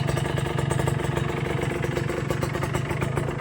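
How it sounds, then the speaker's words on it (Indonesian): A motorcycle engine idles steadily after being revved to 3000 rpm, a continuous close, loud mechanical rumble with fine rhythmic clatter and no speech. "Kalau udah 3000 rpm, motornya biarkan idle."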